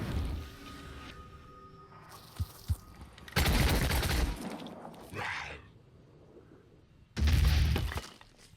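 Sniper fire in the game Phoenix Point: a few sharp separate shots, then loud broadband bursts and a later heavy blast, set against quieter stretches of background rumble.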